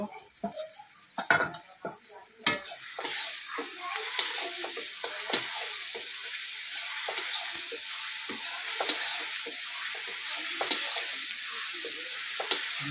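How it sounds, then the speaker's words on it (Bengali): Garlic sautés in a hot pan with a steady crackling sizzle, broken by sharp spatula knocks and scrapes early on, heard up close with no talking. "এবারে রসুনটা দিয়ে দেবো, দিয়ে কষাতে থাকবো।"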